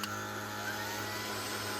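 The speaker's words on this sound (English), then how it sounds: "And now the vacuum has 3 modes. Press and hold it to get it started." A UBROBO cordless dog grooming vacuum hums steadily at close range, its motor tone even and unbroken throughout with no voices.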